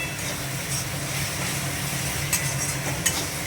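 Turmeric and spice masala for a goat meat curry are stirred in a pan with a steady low sizzle, broken by occasional soft scraping and tapping of the spoon against the pan.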